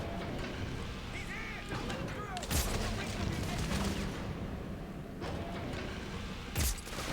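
A gun fires in the sci-fi shooter Dead Space 3 as sharp, sparse bursts. Two or three loud cracks stand out over a busy, noisy game soundscape.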